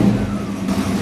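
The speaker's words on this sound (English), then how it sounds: "let's give it a fire up and see what it sounds like. Hopefully that exhaust sounds better." A 1972 Oldsmobile Cutlass V8 with a new exhaust runs at close range, a loud, throbbing engine note holding steady through the short stretch.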